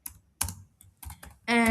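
Several sharp computer keyboard keystrokes come in short irregular clusters with gaps, close and crisp, while a page title is typed for a login and register web page project.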